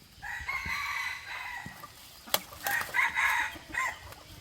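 Two crowing calls from a high-blooded wild jungle fowl rooster with twin spurs, moderately close, the first drawn out and the second broken into bursts, with a sharp click between them and no voices.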